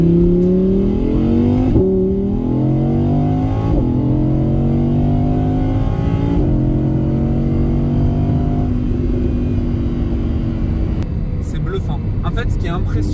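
An Audi R8 supercar's V10 engine revs repeatedly, rising harmonic sweeps climbing and dropping several times, loud and close, with a sharper crackling burst near the end.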